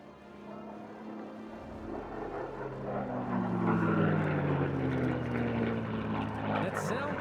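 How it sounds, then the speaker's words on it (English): A P-51 Mustang propeller fighter passes overhead at an air show, with air whistling through the .50 caliber Browning machine gun ports on its wings: a loud, steady engine drone that swells with a sliding whine through the middle and then holds. "That sound that you're hearing is not so much the air underneath the engine, but rather the air going through the 50 caliber Browning machine gun ports on the wings."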